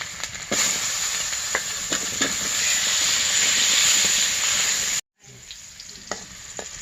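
Steady, loud hiss and crackle of potatoes frying in oil with occasional utensil taps, cutting out briefly before a quieter sizzle resumes.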